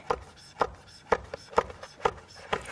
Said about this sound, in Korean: 요거 이렇게 한번 접어주세요, 이특 씨. 아, 접어서 이렇게 썰면 금방 썰려요.